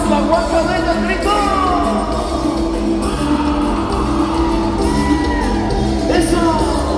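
At a San Sebastián festival in Tecomaxtlahuaca, Oaxaca, a large crowd shouts and whoops together in loud, sustained waves, voices rising and falling over a dense background roar.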